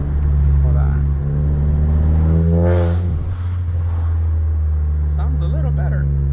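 A 2015 VW GTI Mk7 fitted with a CTS turbo inlet pipe, intake and downpipe runs with a deep, steady engine drone close by, swelling in a brief rev midway and then settling back to idle, with a voice heard over it.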